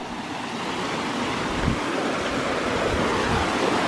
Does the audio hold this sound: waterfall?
yes